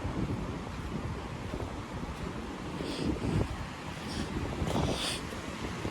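Steady wind buffeting the microphone over the wash of waves on Cipatujah beach, Tasikmalaya, a constant rough roar with no talking.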